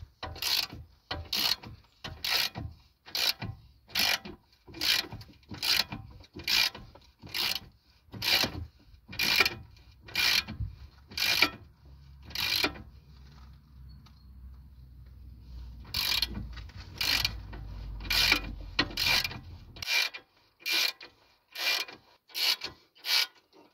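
Rapid, regular clicking of a ratchet wrench loosening a nut on a BMW shock absorber, sized 16 and 18 mm, close up, running in steady bursts with a brief pause and a low rumble underneath.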